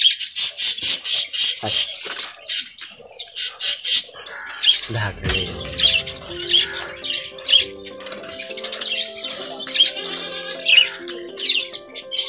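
A colony of young four-month-old budgerigars kept for breeding squawks and chirps in quick overlapping bursts, loud and close, with someone talking among the calls and wings flapping now and then.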